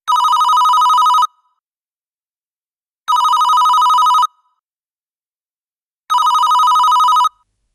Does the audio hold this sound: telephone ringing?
yes